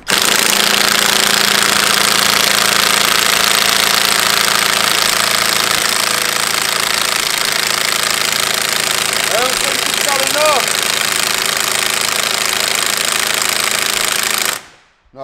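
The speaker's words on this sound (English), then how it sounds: "we've got the 18mm socket on the nut, and we're going to give it the big ugga dugga" An impact wrench fitted with an 18mm socket hammers at a suspension nut on a MINI, a loud, continuous rattling burst lasting many seconds close by, then stopping abruptly.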